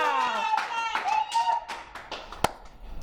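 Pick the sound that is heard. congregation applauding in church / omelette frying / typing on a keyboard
congregation applauding in church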